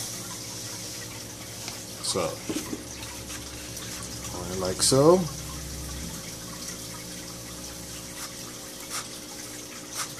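Sand pours through a strainer into aquarium water, trickling and splashing softly with a steady, grainy pour beneath it, and a voice speaks briefly in the middle.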